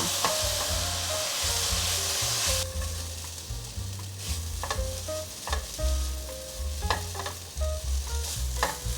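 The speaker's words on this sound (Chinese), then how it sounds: "快速翻炒" Seasoned ingredients stir-fried quickly in a pan, with a steady loud sizzle and repeated scraping, clattering strokes of the spatula throughout, no talking.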